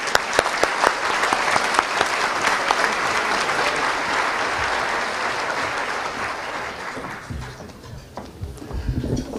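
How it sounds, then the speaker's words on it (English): An audience at an academic awards ceremony applauds steadily for nine seconds, a broad, even wash of clapping that thins slightly toward the end. "Please join me in a hand of applause"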